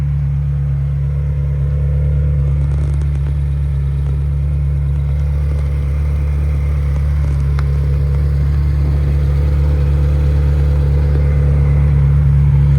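A 2002 Ferrari 360 Spider with a gated six-speed manual runs with a steady, low engine drone and a faint rise toward the end, no clear sharp revs, heard alone without talking.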